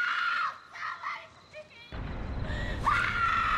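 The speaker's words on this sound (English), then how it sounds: "She's got a good scream." A woman in the 2007 horror film Halloween lets out a loud, high-pitched scream, rising after a stretch of tense voices and a sudden burst of noise.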